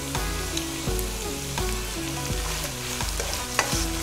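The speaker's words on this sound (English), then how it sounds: "Keep sauteing them." Thin pepper strips sautéing in a pan for pad thai, a loud continuous sizzle broken by rhythmic stirring strokes every second or so.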